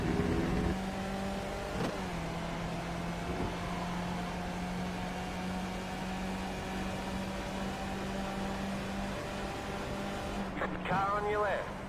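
Skip Barber race car engine at Interlagos in iRacing, a steady droning tone held under a voice with a brief shift near the end.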